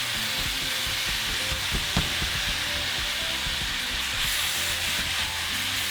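Small cubes of meat fry steadily in a pan for picaditas, a continuous close, loud sizzle with soft scraping and popping throughout, no voices.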